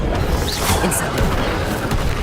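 Incendio fire spell cast in Hogwarts Legacy during combat against a spider foe, a loud burst of crackling, whooshing noise with a few heavy impacts, dense and continuous throughout with no pause.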